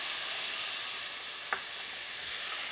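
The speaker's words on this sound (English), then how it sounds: "And we'll stir that in." Caponata relish of vegetables with vinegar and caster sugar frying in a pan, a steady hiss of sizzling with one brief utensil clink as the mixture is stirred.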